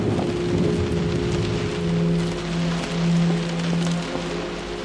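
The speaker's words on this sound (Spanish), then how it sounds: "Mira qué bien hecho está la lluvia en los cristales." Rain patters steadily on window glass in the video game Close to the Sun, a soft continuous wash beneath low droning tones, with no speech.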